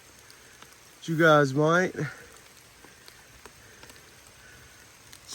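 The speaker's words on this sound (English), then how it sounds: "It's raining right now" Rain falls steadily at a creek during fishing, a soft continuous patter that runs under the whole stretch, while a person speaks briefly near the start.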